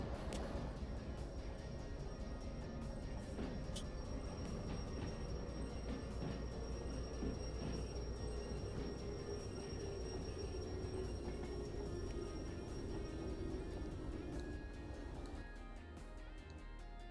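Long freight train of empty container cars rolling along the track in Derail Valley, a steady continuous rumble of wheels and rails with faint squeals, sustained and even, easing slightly near the end.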